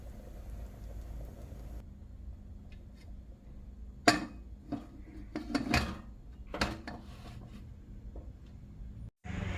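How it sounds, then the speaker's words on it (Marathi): Pressure cooker lid being fitted and closed over a green pea curry, several sharp metallic clicks and clanks in an irregular cluster, close and moderately loud against a quiet background. "आणि आता कुकरचं झाकण लावून घेऊया"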